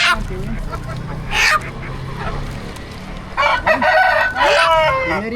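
Chickens cluck and a rooster crows nearby at a market in Madagascar, with honking squawks overlapping amid busy background chatter.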